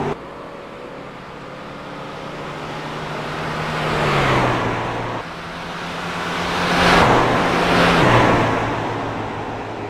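Racing trucks on the track at Phoenix during qualifying for the Toys for Tots 100, engines droning steadily with rising and falling passes that swell louder twice, no talk.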